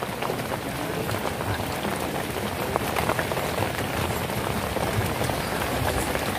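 Steady rain pours during a fishing outing at Saguling reservoir, a dense even hiss of drops striking surfaces that runs unbroken for the whole span, close and fairly loud with no voices.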